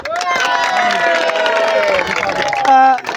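Crowd applause and cheering for the man of the tournament, Dr. Azam, at a prize ceremony after a tournament, loud and sustained through the whole stretch with a tonal harmonic sound and shouts on top.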